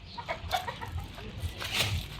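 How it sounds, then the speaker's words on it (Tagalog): Chickens clucking close by, a run of short soft clucks with a sharper squawk near the end. "mga manok na ata yan ya."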